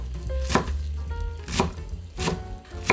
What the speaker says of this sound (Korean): 일단 씻어서 물기를 쭉 뺀 다음에 좀 총총총총 썰어주세요.